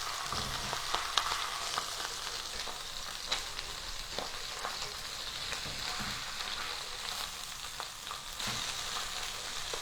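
A salmon fillet sizzles in a hot cast iron pan as it is flipped, a steady close crackle of frying with scattered sharp pops and no talking.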